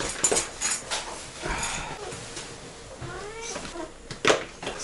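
A house cat meows at someone arriving home, with several short mews and whining cries scattered across a few seconds, fairly close and moderately loud, plus light clinking in the background.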